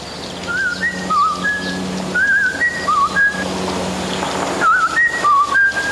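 A man whistles short, bright, trilling phrases in imitation of a sparrow's song, in several bursts with pauses between them, close by against quiet background hiss.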